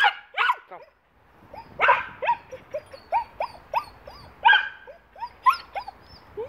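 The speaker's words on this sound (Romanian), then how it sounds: "Cu câinele la plimbărică." A dog on an outdoor walk gives repeated close barks mixed with high, rising whimpers and yips in an uneven, excited rhythm, with short pauses between bursts.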